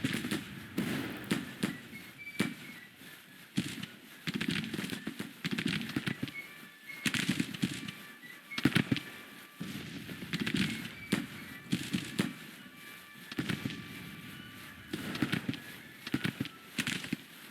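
Close-range musket volleys in Grand Tactician: The Civil War crack in repeated bursts, some single shots and some ragged clusters, above a low rumble of battle. No voices are heard.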